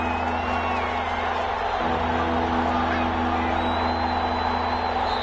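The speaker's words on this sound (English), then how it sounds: "The crowd getting into it as we come up on a big third down." A stadium crowd in a PS4 American football video game roars continuously at a steady, loud level ahead of a big third down, a dense wall of cheering with some voice over it.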